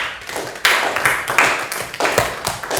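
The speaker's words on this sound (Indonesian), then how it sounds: "Tepuk tangan untuk kelompok 3." Students in a classroom clap for the winning group, a few separate bursts of hand claps, fairly close, with no talk over them.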